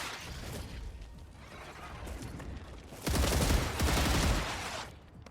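Sustained gunfire in the StarRupture video game, a steady crackle of shots that swells into a louder, denser stretch of rapid firing with mechanical clatter, then fades off near the end.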